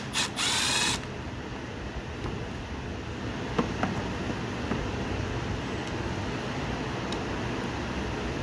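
A ratchet with a 9/32 socket backs screws out of a Toro lawn mower. A short, loud burst of rapid pawl clicking comes first, then a steady mechanical hum with occasional faint ticks.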